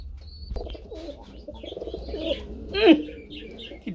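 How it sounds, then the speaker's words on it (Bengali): A running pigeon gives soft cooing calls close by, with a short rising coo near the end over faint background noise. "নটটা কিন্তু ভাই পাগলের মতো ডাকে"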